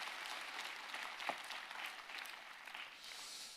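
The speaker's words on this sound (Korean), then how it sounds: "다시 한번 격렬의 박수로" A church congregation applauds during a Sunday service, a fairly quiet, distant wash of many hands clapping steadily, swelling slightly midway and easing toward the end.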